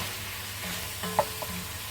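A spoon stirring and scraping the bottom of a pan while small onions cook for a veal blanquette, a faint steady sizzle with a couple of soft scraping clicks near the middle.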